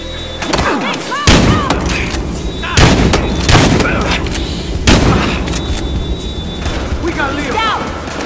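Gunfire in Battlefield Hardline during a hotel shootout: several loud, sharp shots and heavy booms spaced a couple of seconds apart, mixed with shouted voices and game chatter.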